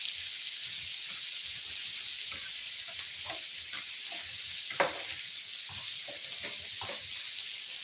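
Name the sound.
shrimp being tossed and sizzling in a frying pan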